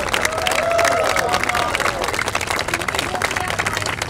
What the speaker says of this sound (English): If we could give her another round of applause.